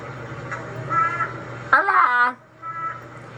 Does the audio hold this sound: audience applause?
no